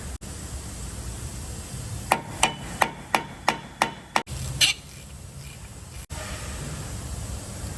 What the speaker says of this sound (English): put a T30 over it, smack it with the hammer